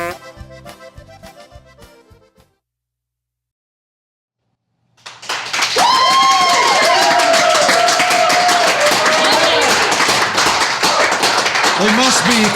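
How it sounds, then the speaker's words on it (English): A studio audience breaks into dense, sustained applause after a short musical sting and a brief silence, loud and close, with a voice cheering over the clapping. "We must be clapping for the shirt."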